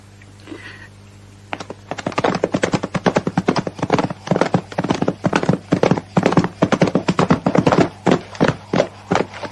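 Horse hooves clip-clop steadily at a brisk, even rhythm in a western film, close and loud after a quiet opening second, with a brief faint whinny near the start.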